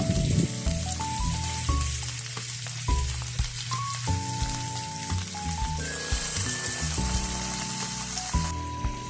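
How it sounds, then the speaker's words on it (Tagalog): Chicken sautéing in a pan with onion, ginger and aromatics for a tamarind chicken stew, giving a loud, steady sizzle with scattered stirring clatter throughout and a faint tonal background. "Pag nasaute na natin ng maayos yung luya at ang mga aromatics, ilalagay na natin yung chicken."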